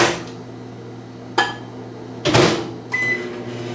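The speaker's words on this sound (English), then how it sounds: "So I'm going to go ahead and drop this in the microwave." A microwave oven running with a steady low hum, broken by a few sharp clunks of a door or cupboard shutting and dishes knocking nearby.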